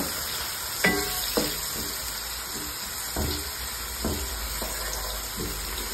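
Thick-cut onions fry in a pan under a constant close sizzle, with several spatula scrapes and knocks spaced a second or so apart.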